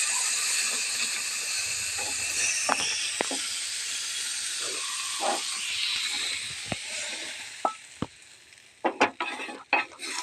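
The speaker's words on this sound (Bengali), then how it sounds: "মাছটা ভেজে নিলাম" Fish sizzles in hot oil in a pan, frying before it goes into a bitter gourd dish; a steady hiss runs throughout, broken by sharp clinks and scrapes of a utensil stirring and tapping the pan.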